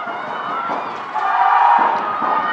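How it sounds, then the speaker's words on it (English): Rugby crowd at a Sale Sharks v Loughborough Lightning women's Premiership match roars and cheers after a big hit, a steady broad swell of many voices that lifts midway and stays loud. "The crowd are really getting into it now."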